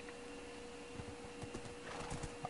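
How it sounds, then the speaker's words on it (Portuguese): Horse hooves clopping in Minecraft, a soft, steady patter of light hoofbeats close by under faint ambient game noise, with no talk. "porque esse cavalo aqui é muito lento"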